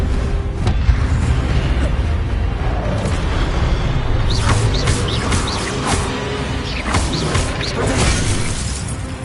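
Fiery spell bursts in Hogwarts Legacy sound over a loud, dense rumbling combat backdrop, with sharp cracks and shattering hits scattered throughout the clip.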